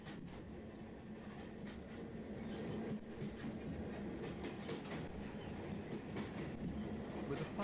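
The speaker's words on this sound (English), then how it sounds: "The last train of all, the 1930 ex-Sanderstead, is seen leaving Selsdon" A train leaving Selsdon station rumbles along with rhythmic clickety-clack of wheels on track, faint and distant, steady throughout.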